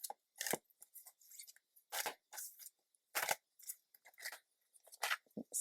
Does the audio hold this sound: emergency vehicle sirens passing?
no